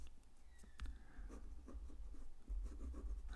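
A pen scratches across paper that wobbles on an unsteady surface, with soft, faint strokes and light taps against a low background rumble.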